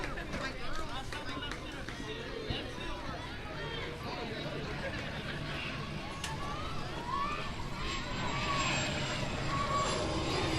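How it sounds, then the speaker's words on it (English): A landing airplane passes low overhead above a youth baseball field, its engine roar a loud sustained wash with crowd chatter and voices underneath. "So the planes have shifted direction. They're actually landing now over top of us instead of taking off."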